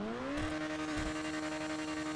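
The Overflod Entity MT supercar in GTA 5 revs up with a rising engine pitch that settles into a steady high drone, with rough pulsing bursts from the exhaust, loud and close.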